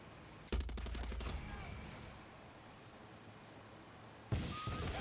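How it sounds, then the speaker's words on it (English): Bursts of artillery and heavy gunfire in the space game Star Trek Online, a rapid rattling volley at the start, then a low rumble, and another loud blast near the end. "Artillery providing cover?"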